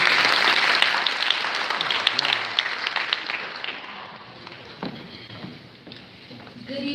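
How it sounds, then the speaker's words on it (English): An audience at a pinning ceremony claps loudly in a dense, continuous burst that slowly thins out, with faint voices underneath toward the end. "Please give her a round of applause."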